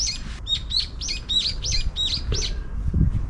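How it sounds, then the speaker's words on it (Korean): A magpie sings a quick run of repeated bright chirps, about eight notes in a steady rhythm, close and clear above faint low background rumble in a park. "새소리."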